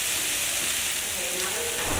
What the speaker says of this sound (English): There's the potatoes cooking.